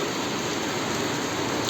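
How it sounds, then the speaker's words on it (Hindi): Steady rain falls in Manali on a cold March morning after snowfall, a continuous even hiss of drops close by with no breaks and no voices. "कल दोपहर के बाद से बारिश नहीं रुकी है"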